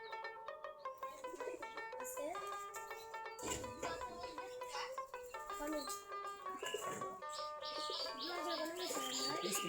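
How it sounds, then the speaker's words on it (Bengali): Native domestic pigeons coo and chirp steadily throughout a dense, layered stretch of calls, fairly close and continuous. "আমাদের সবগুলাই দেশি জাতের কবুতর"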